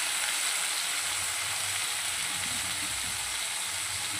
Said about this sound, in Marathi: यामध्ये मॅरिनेशन केलेलं मटण आपलं ॲड करणार आहोत.